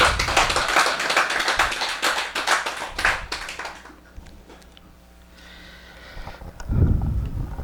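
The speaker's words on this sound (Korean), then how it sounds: "우리 큰 박수 한번 부탁드릴게요" An audience at a lecture on Buddhist philosophy claps for a special guest, a burst of applause for about four seconds that quickly dies away into near silence with faint shuffling.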